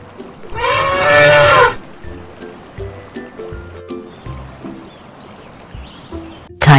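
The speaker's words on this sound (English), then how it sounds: "Elephant." Cartoon elephant trumpeting in a children's animal video: one loud, harmonic trumpet blast lasting about a second near the start, followed by low watery rumbling and faint background noise.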